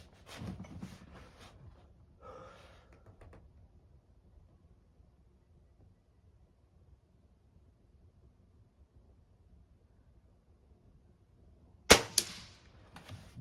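A CFX spring-piston air rifle fires a single sharp, close crack, followed by a short ringing tail, after a long quiet stretch with faint handling noises early on.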